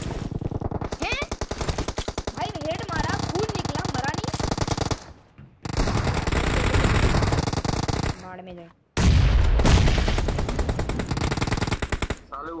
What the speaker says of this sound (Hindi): पीछे से कितना दूर से मार रहा है